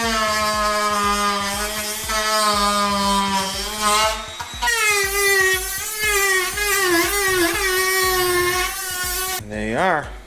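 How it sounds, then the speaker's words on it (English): Dremel rotary tool cutting through a Kydex sheet laid over cardboard while making a kayak keel guard, a loud close whine that shifts pitch as it bites, pausing briefly midway and stopping near the end. "you take out your Dremel or whatever your cutting tool is"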